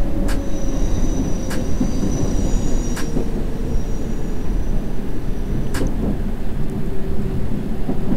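Circle Line subway train running through the London Underground in the World of Subways game, a steady loud rumble of wheels on track with a few sharp metallic clicks and a thin high squeal throughout.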